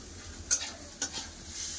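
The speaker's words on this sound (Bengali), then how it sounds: "পোস্তকে ভালো করে ভেজে দিয়েছি" Snake gourd with poppy seeds fries in a pan, a soft steady sizzle broken by two sharp scraping strokes of a spatula about half a second apart.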